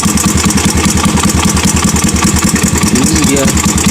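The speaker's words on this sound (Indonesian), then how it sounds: "suara mesinnya kasar ya, suara mesinnya kasar, tidak halus." A used motorcycle engine idles roughly, with an uneven, pulsing chug that runs loud and close throughout while someone talks over it.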